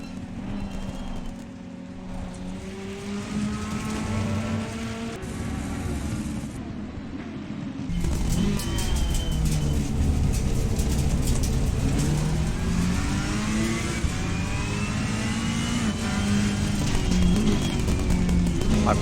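Ferrari race car engine in the Assetto Corsa Competizione racing sim, a continuous loud growl with rising and falling revs and gear changes, climbing sharply in pitch and volume partway through, with no voices.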